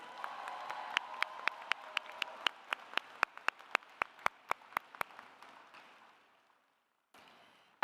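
Graduation audience applause at a college of health and human sciences ceremony: scattered crowd clapping in the background, one loud nearby pair of hands clapping steadily in the foreground, fading out toward a brief silence.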